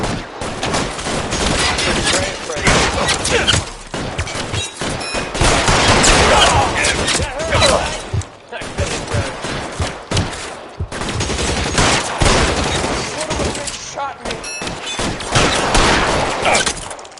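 Heavy gunfire in the video game L.A. Noire: dense, continuous volleys of shots, loud and close, with a few brief lulls between bursts.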